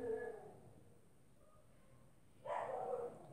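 A small female dog barks in a short, loud burst near the end, after a quiet stretch; faint indistinct sound opens the clip.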